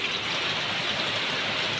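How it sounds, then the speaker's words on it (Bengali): Heavy rain pouring outside, a dense, even roar of drops that stays loud and unbroken throughout, with no voices. "প্রচুর বৃষ্টি বাইরে, প্রচুর বৃষ্টি।"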